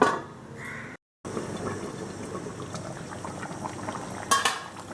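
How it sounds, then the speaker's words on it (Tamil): Chicken roast curry, varuthu araicha koli style, bubbling in a covered pot: a close, continuous simmering gurgle with a brief gap of silence and a few louder pops near the end. "நல்லா கொதிச்சிட்ருக்குது சிக்கன்."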